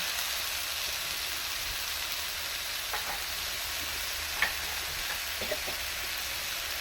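Spices and coriander powder fry in a pan for a singara filling, giving a steady, close sizzle, with a few soft stirring clicks scattered through and no talking.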